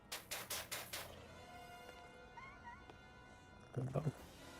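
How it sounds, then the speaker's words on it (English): Cats meow several times in PowerWash Simulator 2, beside a quick series of rhythmic tapping bursts and a louder meow near the end, all fairly faint over a soft background. "Let's go pet the cats."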